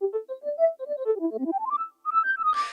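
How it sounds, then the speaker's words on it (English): A Rhodes plugin with reshaped decay and sustain envelopes gives a soft, breathy, flute-like synth tone, playing a legato melodic line of rising and falling notes that ends in a brief noisy burst. "instead of sounding like a Rhodes, it sounds like this, almost like a flute type quality."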